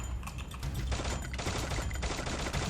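An M500 scoped pistol fires in the video game Free Fire, a fast run of sharp, crisp shots in quick succession, loud and close, with no voices over them.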